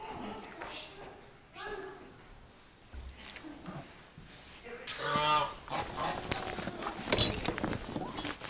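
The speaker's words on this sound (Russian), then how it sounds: "Это гуси, это гуси, утки," Geese honk in short, nasal bursts at close range in a Russian village farmyard, with other fowl nearby, while people talk over the calls.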